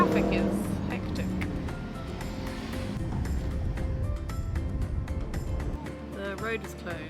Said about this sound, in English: Well, the traffic is hectic.